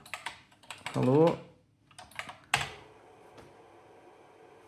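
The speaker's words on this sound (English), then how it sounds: "If I type in run, nothing should happen." Keys clatter on a BBC Model B computer keyboard in a short burst of quick presses, with a few more taps, close and fairly crisp, while a person speaks in between.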